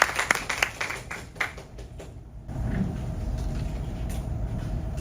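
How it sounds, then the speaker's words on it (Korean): Scattered applause from a lecture audience welcomes a speaker, sharp individual claps thinning out over about two seconds before giving way to a low, steady room rumble. "큰 박수로 모시겠습니다"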